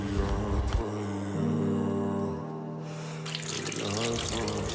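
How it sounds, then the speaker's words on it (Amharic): A household tap runs steadily while someone washes, a continuous rush of water under a television playing in the background. "ውሃውን አታባክ ነው። ቀስ እያልክ ታጠብ።"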